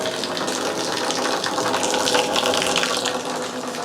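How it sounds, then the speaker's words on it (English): Homemade wort for a vodka mash gushes from an opened valve into a fermenter, a loud, steady splashing pour with no pauses, close up and without voices. "open this valve out, dump all of the wort into the fermenter"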